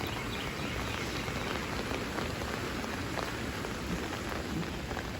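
Steady rain falls outdoors on a cool day near grass, a constant dense hiss of drops hitting surfaces with no break and no voices.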